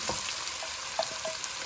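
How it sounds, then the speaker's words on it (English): Chopped onions frying in a pan with bay leaves, cardamom, cloves and cinnamon stick for a mutton curry, a steady close sizzle with faint crackles and a soft stir. "fry the onions for 3 to 4 minutes"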